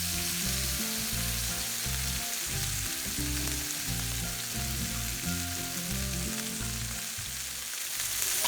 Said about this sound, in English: once they're done frying on both sides, and they're nice and crispy